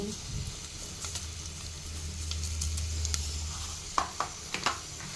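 Mustard and fenugreek seeds fry in oil with a soft sizzle and a patter of small pops, and a few sharper clicks of the pan come near the end.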